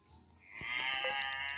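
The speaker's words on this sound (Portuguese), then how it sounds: "Esses barulhos da vaca não tá me deixando" Cow mooing in a farm video game, a single sustained low moo that swells from about the midpoint and holds loud and steady to the end.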